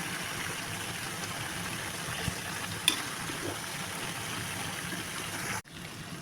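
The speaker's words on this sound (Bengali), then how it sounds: "এখন আমি নাড়াচাড়া করে নেব" Cabbage frying in a pan while being stirred, a steady broadband sizzle with faint scraping, ending in an abrupt drop near the end.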